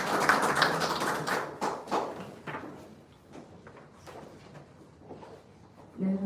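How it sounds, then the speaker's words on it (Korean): Audience applause at a school violence colloquium hosted by the Gyeonggi Provincial Council education committee: a brisk burst of clapping from a seated crowd that thins out and fades over several seconds before a voice returns at the end. "큰 박수 부탁드릴게요"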